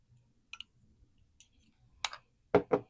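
A Pilot Kakuno fountain pen being capped, a few small sharp plastic clicks, the loudest pair close together at the end, in an otherwise quiet room.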